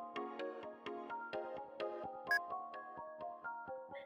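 A mobile phone ringing in a video game, a bright electronic melody of short repeated tones in a steady rhythm, clean and quiet with no talking.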